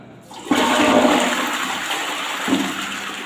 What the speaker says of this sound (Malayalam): ഒന്ന് ഫ്ലഷ് ചെയ്ത് കഴിഞ്ഞാൽ